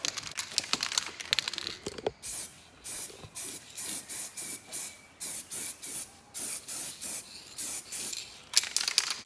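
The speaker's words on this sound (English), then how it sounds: "just spray it underneath a little bit" Spray paint hisses onto alloy wheels in about fifteen even, rhythmic bursts, each lasting roughly half a second, close and steady with no talking.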